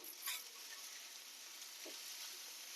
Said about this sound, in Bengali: হলুদ গুঁড়ো লঙ্কা গুঁড়ো দিয়ে দিয়েছি, এবার ভালো করে কষিয়ে নেব